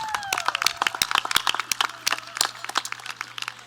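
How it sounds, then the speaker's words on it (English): An audience at the 2022 Garey High School graduation ceremony claps, a busy patter of sharp individual hand claps, fairly close and uneven, with no voices. "So give yourselves a round of applause."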